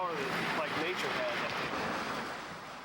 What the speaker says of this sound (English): Water rushing out of Brush Creek on July 10th.